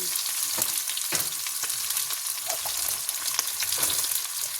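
Onions fry in hot oil for fish kulambu, a continuous close sizzle with scattered crackling pops and occasional stirring, no talk.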